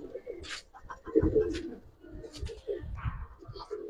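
Silver pankhi pigeons coo nearby in low, throaty, rolling calls, several overlapping phrases over a few seconds. Soft chirps and faint rustling sit in the background, and there is no clear talking.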